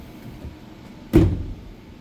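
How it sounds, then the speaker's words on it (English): A door swings shut with one soft thud partway through, a short muffled knock over quiet room hiss during a magnetic nameplate project. "So then just close your door."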